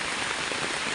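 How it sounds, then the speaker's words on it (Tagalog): Heavy rain pours down steadily onto a surface, a dense, constant hiss with scattered close drops and no break or talk. "At medyo malakas po ang ulan."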